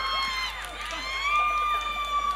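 Supporters at a children's Loy Krathong pageant in Ban Pong cheering for contestant number 15, a steady crowd roar with high shouts and whistling tones, loud and continuous throughout.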